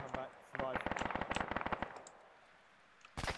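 Rapid bursts of automatic gunfire crack close by during a military-style helmet-cam operation, a quick string of sharp reports following a brief voice, then a lull and one more loud shot at the end.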